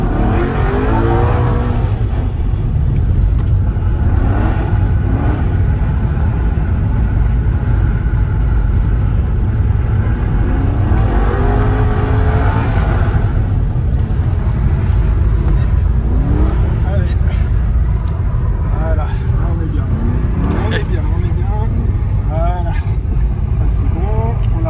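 An Aston Martin V8 Vantage with the 4.3-litre engine drives hard nearby, its engine rumbling and revving continuously throughout with rising and falling pitch sweeps, under a voice talking.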